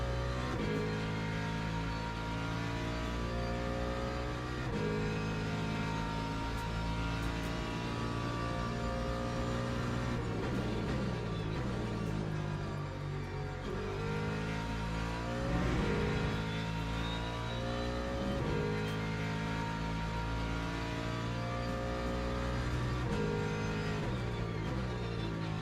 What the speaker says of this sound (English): the Mustang just sounds so much louder than any other car